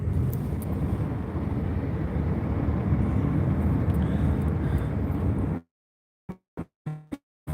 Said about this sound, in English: There's nobody driving that car.